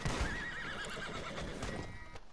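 A horse in a video game gives a loud, wavering whinny over hoof clatter and a busy game soundscape, then the sound trails into scattered thumps.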